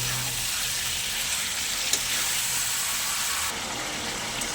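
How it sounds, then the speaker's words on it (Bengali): Chicken pieces sizzling as they are stir-fried slowly with spices in a pan for chicken curry, a steady, fairly quiet hiss that carries on throughout with no talk. "খুব আস্তে আস্তে চিকেনটাকে কষাবো, যাতে মশলাগুলো চিকেনের মধ্যে চলে যায়।"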